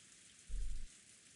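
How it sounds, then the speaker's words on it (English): Steady rain in the game Umineko no Naku Koro ni, a soft constant hiss with one short low rumble of thunder rising and fading in the middle, faint and alone. "It's just the sound of the rain."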